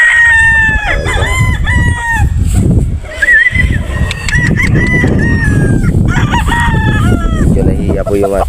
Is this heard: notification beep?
no